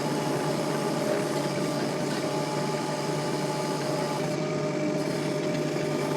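A mini excavator engine drones steadily while backfilling extra dirt during red cedar tree removal, a constant mid-level engine hum with no breaks or other voices.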